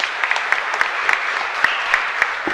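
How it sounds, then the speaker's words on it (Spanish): A church congregation applauds during a Catholic Mass in the chapel of Nuestra Señora de Betharran in Asunción, a steady wash of many hands with sharp individual claps standing out at a moderate distance. "Y un fuerte aplauso para nuestra comunidad, queridos hermanos."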